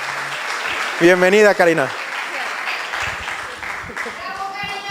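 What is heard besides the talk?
audience applause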